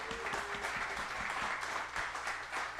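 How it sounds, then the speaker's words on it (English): A live audience at a Kevin Smith fan Q&A and trivia event applauds a guest introduced on stage, steady dense clapping filling the room for a few seconds. "Give it up for Tracy, everybody."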